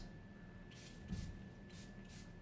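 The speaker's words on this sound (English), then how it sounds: "we're going to spray in the heat protectant." Several short, soft hisses of heat protectant sprayed onto hair from a spray bottle, two bursts then two more, quiet and close with a faint background hum.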